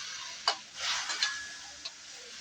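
An egg poured into bitter gourd sautéing in a pan, giving a steady hissing sizzle with a few sharp clicks of a utensil, close and fairly quiet, no talking.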